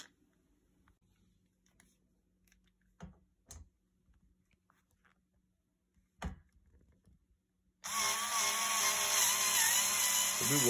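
A power drill drives a screw into an IKEA Hauga bed frame, a loud, steady whir starting abruptly near the end after quiet handling clicks and knocks.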